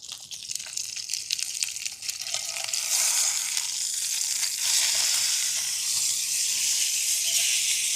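Ribeye steak sizzles and spits loudly in a hot pan just after being flipped, the frying hiss steady and growing fuller after a few seconds, with no one talking.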